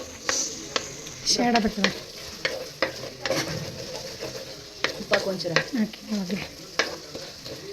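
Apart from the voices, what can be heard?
tomato and garlic paste frying in oil, stirred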